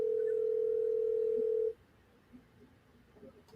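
A steady single-pitched telephone tone sounds for under two seconds, then cuts off, leaving faint room noise.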